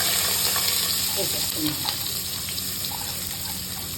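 Chopped onions go into hot oil in a pan for a mutton-style okra curry, giving a steady, loud, close sizzle that hisses broadly throughout, with faint clinks and soft voices in the background.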